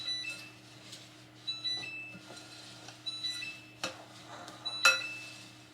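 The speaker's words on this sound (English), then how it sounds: "now, we're just gonna take a spoon and mix it all up" A spoon stirs homemade granola in a bowl, making light, irregular clinks and soft scrapes against the dish, fairly close, with a faint steady hum underneath and no talking.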